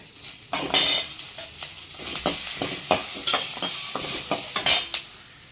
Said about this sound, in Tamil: நம்ம போட்ட மிளகுலாம் பொரியறப்போ